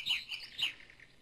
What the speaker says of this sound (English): Oh my gosh, birds. Shut up, birds!